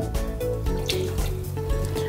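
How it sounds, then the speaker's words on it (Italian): Water pours from a tap into a thick-bottomed steel saucepan holding sugar, a steady, close, continuous gushing splash that runs for a couple of seconds with no talk. "In una pentolina d'acciaio col fondo spesso versiamo lo zucchero e l'acqua."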